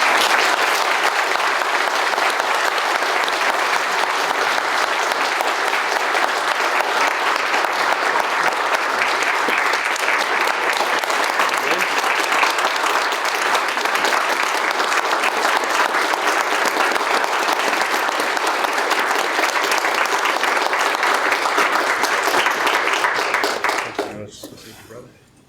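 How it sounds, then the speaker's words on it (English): A large audience claps in sustained, dense applause for over twenty seconds before it quickly dies away. "Let's give a round of applause, folks."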